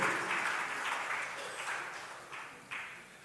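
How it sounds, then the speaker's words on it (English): Audience clapping at an official launch event for the Nigeria Gender County Programme, fairly faint and fading, with a few sharper individual claps standing out near the end. "Please give me a round of applause commensurate with my size."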